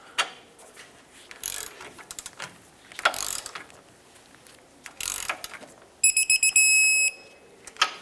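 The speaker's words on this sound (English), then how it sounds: "Let's tighten this up and torque them to 101 foot-pounds." A torque wrench with a 19 mm socket ratchets and clicks while tightening lower control arm bushing bolts to 101 foot-pounds on a 1996-2002 Toyota 4Runner. Close, crisp bursts of rapid mechanical clicking come in several separate runs, with quiet gaps between them.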